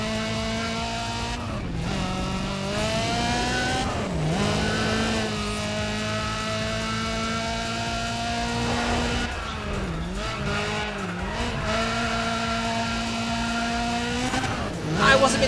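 Racing car engine in Need for Speed ProStreet, revving loud and steady with repeated gear-shift dips and tire squeal, a voice talking over it throughout.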